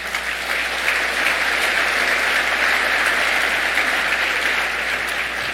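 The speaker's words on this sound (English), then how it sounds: "Please give everyone involved a round of applause" A convention annual meeting audience breaks into applause, a dense, loud, sustained wash of many hands clapping that holds evenly from start to finish with no talk over it.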